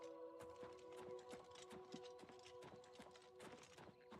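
Horse hooves clip-clop at a steady walking rhythm in the video game Oblivion Remastered, with evenly spaced hoofbeats over a constant tonal ambient background.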